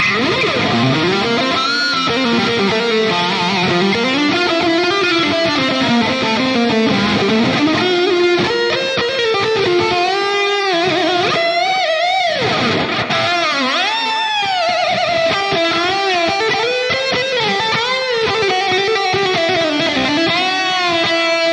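Distorted metal lead guitar through the Amped Burger amp plugin, with delay and a touch of reverb, playing sustained singing notes, bends and fast runs, loud and continuous with echoing tails.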